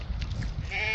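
A sheep on a farm gives a bleat that swells near the end, close and fairly clear over faint rustling background noise.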